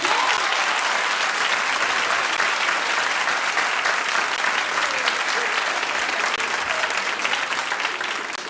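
Studio audience at a daytime talk show claps in a steady, dense burst lasting over eight seconds, loud and even before tapering slightly at the end, with no talk over it.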